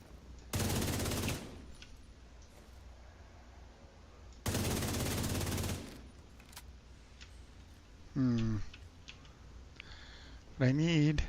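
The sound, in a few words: enemies shooting guns in video game The Division 2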